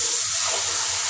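Water poured into a pan of frying spices with chilli and salt; a loud, steady, close rushing hiss fills the whole moment.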